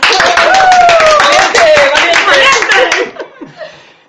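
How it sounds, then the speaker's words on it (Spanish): Scattered clapping mixes with chuckles and talk among a small group of podcast hosts, loud and close, then tapering off into quieter laughter near the end. "Al que desde aquí damos un aplauso"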